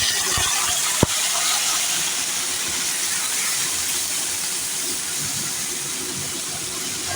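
Water poured into a hot pan with turmeric gives a sustained, loud steaming hiss after a brief sharp splash at the start, holding steady throughout.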